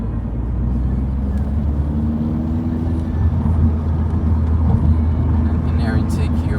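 A 180HP VW Scirocco engine is floored through a roundabout, making a loud, steady low rumble that swells slightly as it pulls hard, with voices talking over the drone.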